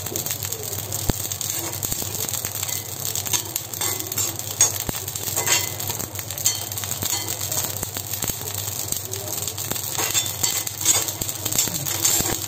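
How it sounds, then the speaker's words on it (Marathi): Cumin seeds dry-roasting in a pan without oil while being stirred, a steady faint crackling and popping sizzle with scattered sharp ticks throughout. "हे बघा जिरं भाजलं की त्याचा फटफट आवाज यायला सुरुवात झाली."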